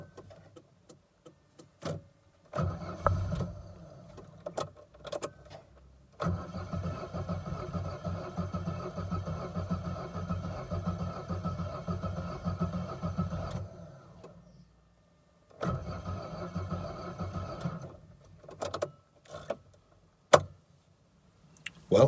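A broken-down car's starter cranks in several long grinding bursts separated by pauses, the engine catching with a brief cough but not running, recorded fairly close with sharp clicks between attempts.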